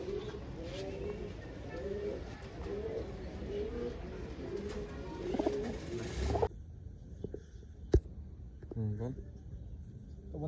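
Gola pigeons in a loft in Howrah, Kolkata, coo in repeated low, throaty phrases for about six seconds. Then the cooing drops away to a quieter scene with one sharp knock and a few faint distant calls.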